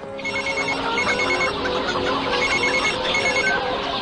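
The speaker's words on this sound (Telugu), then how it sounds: "ముందు మీ నాన్నగారికి ఫోన్ చేయి ప్లీజ్." A telephone rings steadily in a Telugu film scene, with repeated electronic ringtone bursts at moderate volume and no voices over them.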